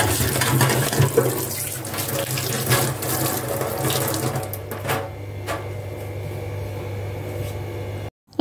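Water runs steadily from a tap into a kitchen sink during cleanup in a village home, a loud, continuous close-up splash and hiss that stops abruptly at the end, with no talking.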